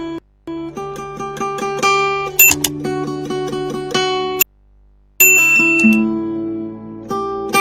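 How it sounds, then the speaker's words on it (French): A bright electronic notification bell chime, rung as a rapid series of clear ringing dings with a short silent gap in the middle, loud and close with no voices. "Abonnez-vous et activez la cloche de notification pour ne rien rater."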